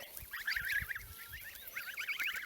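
Several domestic geese honk in a noisy, overlapping chorus nearby, their calls coming in bursts with soft thumps underneath.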